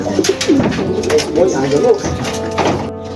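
Racing pigeons arriving at the loft after a 183 km derby race, soft repeated cooing and wing flutters close by, while people talk over them.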